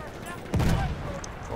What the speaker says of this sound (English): That mortar is following.